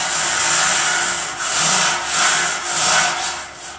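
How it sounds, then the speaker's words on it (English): A Titiz plastic radiator brush scrubbed through a radiator produces loud, close, rough brushing strokes in a steady back-and-forth rhythm, with a few swells and dips near the end. "And it's very satisfying cleaning radiators."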